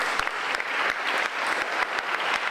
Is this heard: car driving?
no